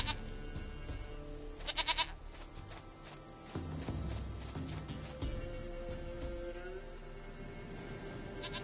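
Goat in the video game Witcher 3 giving short bleats amid quiet game ambience and footsteps, faint and intermittent.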